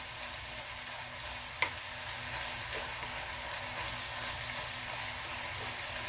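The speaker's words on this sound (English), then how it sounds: "after you get the soy sauce in there and the sesame oil, just give it a nice little stir" Ground meat with soy sauce and sesame oil frying in a pan, a steady bright sizzle and hiss throughout with one sharp utensil tap near the start and soft stirring scrapes, no talk.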